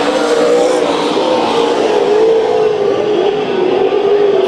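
Loud, continuous roar of several race cars running laps during heat races at Bakersfield Speedway, engines droning and shifting pitch together as the pack circles, dense and steady throughout.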